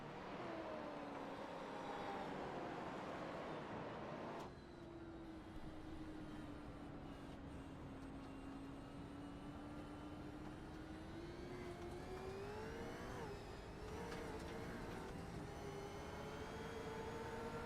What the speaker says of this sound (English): Listen to him struggle to put the power down in that supercar.